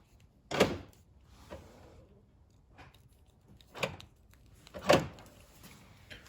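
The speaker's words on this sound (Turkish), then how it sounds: "Kilit sesine bak. Sanırsın G serisi." Three sharp mechanical thunks spaced a second or so apart from a Ford Tourneo Connect's door locks latching, close and fairly loud against a quiet background.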